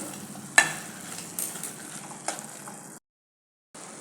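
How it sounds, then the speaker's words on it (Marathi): A thick coconut mixture for coconut burfi is stirred in a pan, a spoon scraping and knocking the metal over a soft steady sizzle, briefly cutting out. "आता अजून थोडा वेळ परतते आणि दाखवते"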